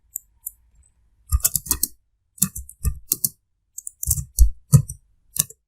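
Typing on a computer keyboard comes in short clusters of crisp key clicks separated by silent pauses, close and distinct, with no talking.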